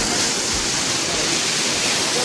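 Fast-flowing water in an irrigation canal near a bridge, a dense, loud, steady rushing roar that fills the whole stretch without pause.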